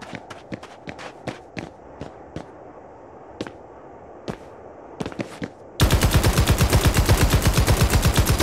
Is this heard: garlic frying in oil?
no